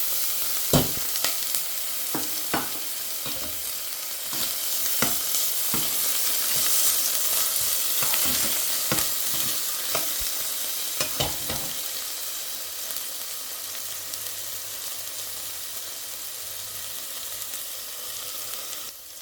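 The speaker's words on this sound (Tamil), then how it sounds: "இஞ்சியும் பூண்டு முடிச்சு வச்சுருந்தாங்க, அதையும் போடுவோம்" Ginger and garlic fry in a pan for a Jaffna-style mutton curry, with a steady close sizzle broken by repeated sharp clacks of a spoon stirring against the pan.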